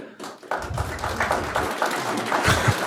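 An audience claps at a city council meeting, a dense patter of hand claps starting abruptly and continuing steadily for a few seconds, fairly close and moderately loud.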